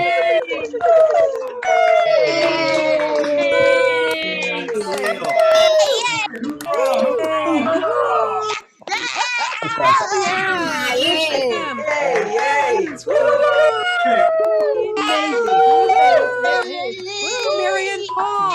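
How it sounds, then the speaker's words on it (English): Congregation members unmuted on a video call for a Sunday music service, cheering and calling out together in a loud, overlapping jumble of many voices that carries on almost without a break. "can we like unmute and just cheer for that, for crying out loud?"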